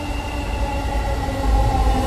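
A Dhaka metro train at a station, an elevated trial-run train passing, gives a steady low rumbling roar with faint tonal hums, close and continuous throughout, with no talking.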